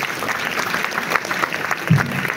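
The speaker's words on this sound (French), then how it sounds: "sous vos acclamations" Audience applause at a tribute celebration for Clément Tuho, a steady patter of clapping that swells briefly near the end with a low vocal burst, likely a cheer.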